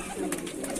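A full-crested tumbler pigeon from a Moradabad summer pigeon tournament gives a short, soft coo, heard close and faint in a brief snippet.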